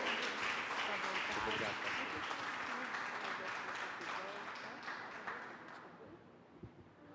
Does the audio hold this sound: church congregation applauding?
yes